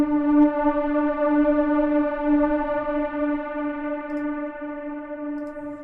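A Serum synth preset called Emo Atmosphere, an atmospheric pad for drum and bass, sustains a steady, rich harmonic tone with a slight echo, ringing on evenly and fairly loud with no talking.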